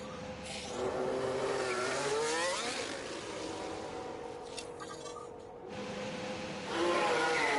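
Formula 1 race car engine on flying laps around COTA in F1 Manager 23, a Mercedes AMG car: a high, steady engine whine rising and falling through gear changes, heard continuously and fairly close throughout.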